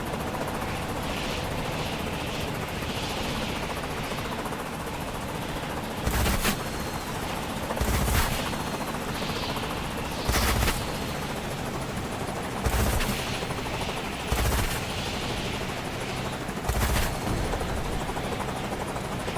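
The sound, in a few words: gunfire in an island capture video game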